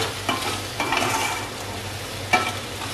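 Finely chopped garlic gets stirred in a hot pan for fettuccine Alfredo with ham and mushrooms, a close sizzle broken by a few quick scraping strokes of a utensil, with no voices.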